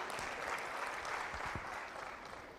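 An audience in a hall claps during a creative-thinking skills talk, a quiet, distant wash of steady applause with a few low thumps.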